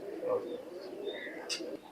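Pigeons coo softly in a loft of high-flying imported-bloodline birds, a low murmuring call with a brief brighter chirp near the end, close and moderately quiet.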